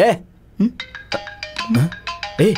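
A phone rings with a melodic ringtone, its steady tones overlapping with people talking nearby in a Hindi-dubbed Telugu film scene.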